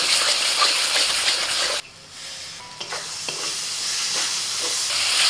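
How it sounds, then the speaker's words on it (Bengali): Spice masala fries slowly over very low heat in a pan, a loud sizzle broken by a sudden drop, then faint stirring scrapes and clinks before the sizzle swells back up; no one speaks. "একেবারে হালকা জালে আস্তে আস্তে করে মশলাটা কষাতে হবে"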